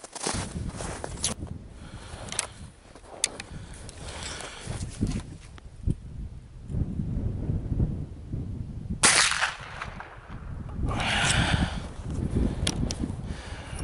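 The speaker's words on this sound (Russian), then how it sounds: "Выстрел хлесткий, но ушло намного выше." A homemade 32-gauge slug is fired outdoors from an IZh-K shotgun, giving one sharp, sudden report partway through, surrounded by rustling, handling noise and outdoor background sound.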